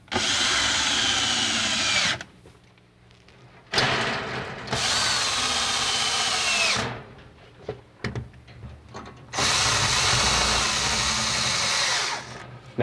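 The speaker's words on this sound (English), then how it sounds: "you take your drill and you're going to push up on the ceiling and you're just going to drill until it's flush" A power drill drives toggle bolts up into a booth ceiling in three long, loud whirring bursts, with quiet gaps and light handling clatter between them and no talking.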